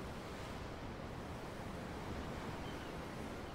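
Ocean waves in the video game Tales of Arise, a continuous, even roar of surf with wind, fairly soft and heard alone.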